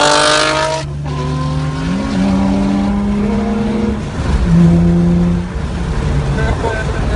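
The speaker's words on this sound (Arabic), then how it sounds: "تخيل عندك نفس الموتور بس في نسخة تشدك من أول دوسة بنزين" A car engine accelerates and revs hard, climbing through gears with rising and falling engine tones and some tire noise, loud and close, while a voice talks over it.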